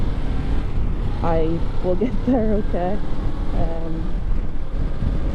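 Wind roars steadily past the microphone while riding out on a motorcycle, with someone talking over it throughout.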